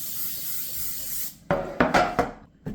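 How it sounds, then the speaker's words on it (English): Cooking spray sprays into a 9x13 baking dish: after a steady hiss, a few short, close bursts of spraying follow one another with brief gaps. "we need to take a 9x13, give it a good spray with our spray."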